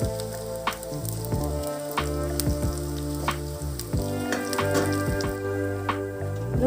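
Rava tikkis made from semolina fry in a pan over a low flame, a steady crackling sizzle with sharp popping spits of oil scattered throughout.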